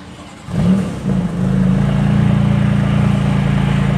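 BMW M3 with an aftermarket exhaust, 453 hp, cold-starting: a loud crank and catch, then a steady, rumbling high idle that stays close and dominant with no talking.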